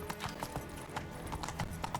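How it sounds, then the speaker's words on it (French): A horse's hooves clip-clop at a steady trotting rhythm in The Witcher 3, moderately close and fairly quiet, with no talking over them. "On va récupérer notre cheval pour aller plus vite."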